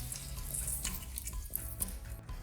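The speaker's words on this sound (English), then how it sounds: "Alright, so our steak is in there, sizzling away nice." Soft, steady sizzling and crackling of a 48oz cowboy steak cooking over a wood fire, quiet and continuous with no talking.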